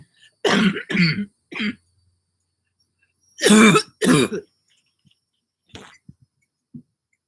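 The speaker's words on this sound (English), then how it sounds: "I still got a little lingering cough" Several harsh coughs and throat clearings from a lingering cough come in two bursts separated by silence, followed by a few faint small sounds.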